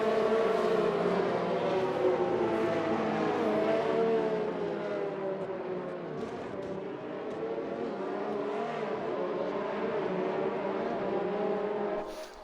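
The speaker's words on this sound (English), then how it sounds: "look at the concertina of race cars around that curve" Formula 1 race cars bunched nose to tail through a curve, their high-pitched engines whining loudly and continuously in overlapping, shifting tones as the pack sweeps past, without any talking.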